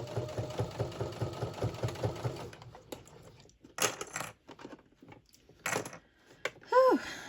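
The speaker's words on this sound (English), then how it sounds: "As I'm trying to sew down in that ditch there." Sewing machine stitching in the ditch along the binding of a Christmas mug rug, a steady close rhythmic needle clatter for about three seconds, then stopping, followed by scattered handling clicks and brief bursts of fabric rustle.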